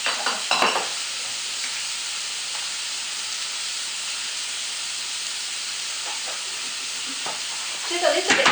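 Tomato for a beef and green bean stir-fry sizzles steadily in a hot pan, a continuous frying hiss broken by a few stirring scrapes near the start and end.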